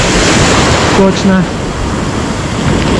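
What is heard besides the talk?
sea waves breaking on a beach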